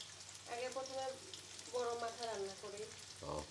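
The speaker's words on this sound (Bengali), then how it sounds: "কাতল মাছের মাথা রান্না করে দিচ্ছে প্রথমে" Catla fish head frying in a pan, a steady close sizzle running throughout, with voices speaking over it at moments.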